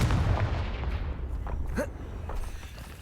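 A Confringo fire spell blasts in Hogwarts Legacy, a short fiery boom with a rising whoosh over a dense, rumbling game backdrop, no voices over it.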